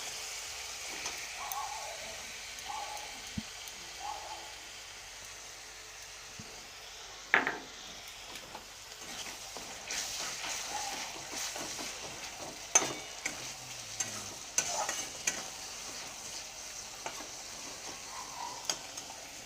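Tomato puree cooking into frying masala with a pinch of sugar, a quiet sizzle with intermittent spoon scrapes and clinks against the pan, close and soft.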